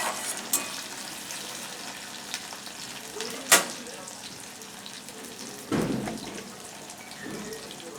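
Chopped tomato, onion and garlic fry with spices in a pan, giving a soft continuous sizzle close up and occasional sharp clinks and scrapes from stirring.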